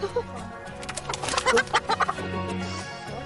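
A chicken clucks in short, close bursts, a few soft calls in quick succession over quiet background.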